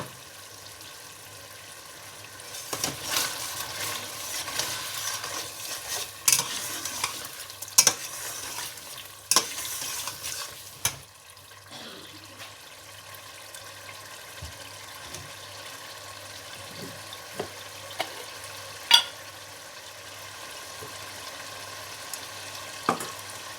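Spices fried and stirred in a pot for chicken pulao: coriander powder, cumin and paprika. A steady low sizzle runs under scattered scraping and clinking stirring strokes, close, with no talk.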